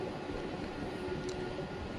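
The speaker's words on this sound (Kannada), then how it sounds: "ನಮ್ಮ ಟ್ರೈನ್ ಈಗ KR ಪುರ ರೈಲ್ವೆ ಸ್ಟೇಷನ್ ಪ್ಲ್ಯಾಟ್ಫಾರ್ಮ್ ನಂಬರ್ 2ಕ್ಕೆ ಬಂದಿದೆ" A MEMU train stands at platform 2 of KR Puram railway station near Bangalore, its low rumble and steady hum continuous and fairly quiet throughout, with no one speaking.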